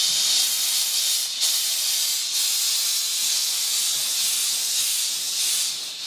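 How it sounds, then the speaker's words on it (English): A handheld household steam cleaner with a brush attachment steaming a wall, giving a loud, continuous close hiss that dips briefly now and then as the brush moves. "So I put another attachment on here, and it's that brush. So I'm gonna see if I can do the wall here"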